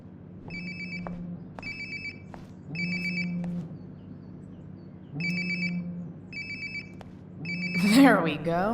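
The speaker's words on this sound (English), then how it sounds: "Sounds like my phone is definitely nearby." A phone rings in the video game Life is Strange: Before The Storm, repeated bursts of an electronic trill spaced about a second or two apart, with a low hum and some louder rustling toward the end.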